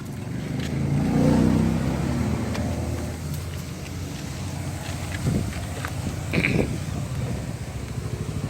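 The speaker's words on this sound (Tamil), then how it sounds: "வண்டி ஸ்டார்ட் பண்ணுங்கள், ஒரு 10 டைம்ஸ் ஸ்டார்ட் பண்ணுங்கள்." A Tata Indica Vista Quadrajet diesel car engine turns over and settles into a steady, low, rough rumble, close to the microphone, with a brief swell near the start and light wind noise over it.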